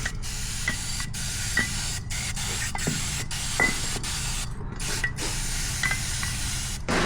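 An aerosol can of brake cleaner sprays onto the engine of a Husqvarna WR250F four-stroke dirt bike in a workshop. It makes a continuous close hiss broken by short pauses and faint clicks as the nozzle is pressed again and again.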